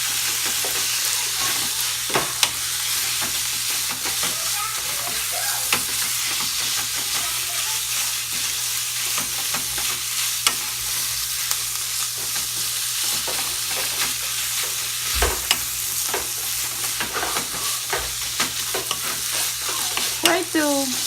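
Ground beef sizzles and fries steadily in a pan for a long stretch, with the scrape and clack of a utensil stirring and breaking up the meat now and then.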